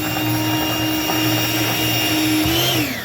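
Strawberry cake batter being mixed with an electric mixer, a loud continuous motor whine with a steady pitch that dips slightly near the end, close up and without speech.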